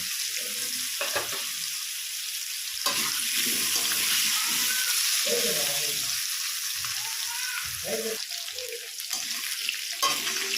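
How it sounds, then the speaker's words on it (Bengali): Potatoes frying in hot oil in a pan, a continuous bright sizzle running throughout with occasional low stirring thumps and shifts, close up, no voices. "এবার এই তেলের মধ্যে আমি আলুগুলো ভেজে নেব"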